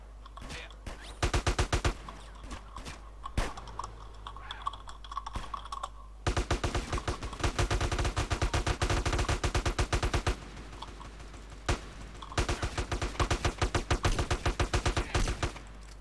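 Rapid bursts of gunfire from the multiplayer GTA game MTA, crackling in dense volleys and repeated strings of shots, with a few brief pauses between the louder stretches.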